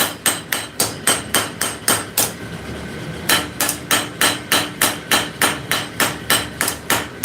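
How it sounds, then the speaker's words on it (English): A hammer planishes steel to blend out marks left by vise jaws, striking in a steady rhythm of sharp, close metallic blows. The hammering pauses for about a second midway, then resumes at the same even pace. "Come in and just planish where the jaws of that vise had bit onto the steel."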